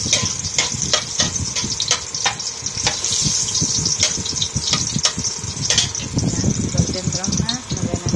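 Onions sizzling in a pan of garlic for chicken soup, a dense steady frying crackle with stirring clatter throughout, close and loud, while a voice talks over it.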